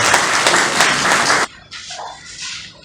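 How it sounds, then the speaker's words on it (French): Audience applause at a formal bilateral ceremony for a 2019 sector review, loud and dense clapping for about a second and a half before it cuts off abruptly, leaving a quieter room. "je vais tout de suite laisser la parole, sous applaudissements bien sûr"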